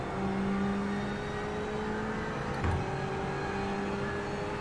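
A race car in the iRacing video game, driven through the Mulsanne chicanes at Le Mans. The engine note is steady and droning, with a brief thump partway through and no talking.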